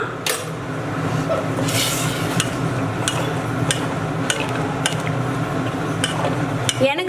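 Wheat payasam with coconut milk is stirred in a pot, with a spoon scraping and clinking against the metal in irregular taps over a steady low kitchen hum. No voices.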